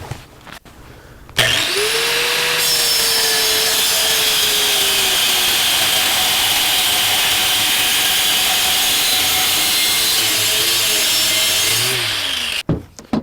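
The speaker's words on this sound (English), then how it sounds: "I'm going to cut it right here with the angle grinder" An angle grinder cuts through metal bar stock with a loud, steady, high-pitched whine and hiss that holds for about eleven seconds, starting abruptly and winding down at the end, with no talk.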